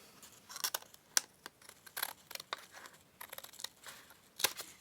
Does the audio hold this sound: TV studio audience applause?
no